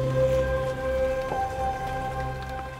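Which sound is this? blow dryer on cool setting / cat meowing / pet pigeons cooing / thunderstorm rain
thunderstorm rain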